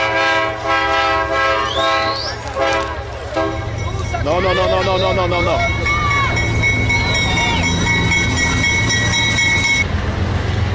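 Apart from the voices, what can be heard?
freight train carrying cars passing, horn sounding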